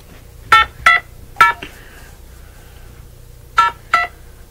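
Telephone keypad tones sound as a number is dialed: five short, clear beeps in two groups, three quick presses, a pause, then two more, over a quiet background hum.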